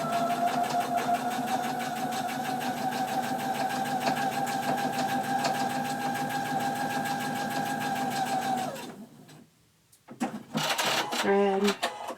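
A sewing machine stitches a fabric corner bookmark, giving a steady, close motor hum with a rapid needle chatter. It runs evenly for several seconds, then stops, followed by brief handling clatter and scraping.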